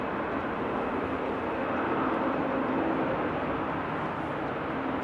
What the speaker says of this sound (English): Cathay Pacific is actually taxiing right now with the A350 1000.